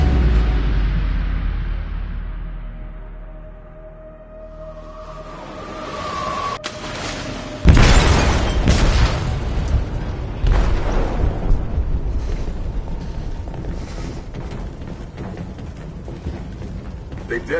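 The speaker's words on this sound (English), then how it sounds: "They detonated an explosive in the hold." An explosive goes off in a ship's hold in a video game: a low rumble builds, then a sudden heavy boom, followed by a sustained roaring, clanking aftermath.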